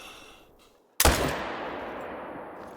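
A single rifle gunshot from the hunting video game theHunter: Call of the Wild cracks loudly out of near silence, followed by a long rolling echo that fades slowly.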